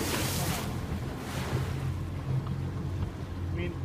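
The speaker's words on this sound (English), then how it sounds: "Big wave, folks. Okay, heads up, guys. These are big waves." Big waves from a wakeboard boat rolling in and hitting a boat, a continuous loud wash and slosh of water with wind buffeting the microphone, no clear talk.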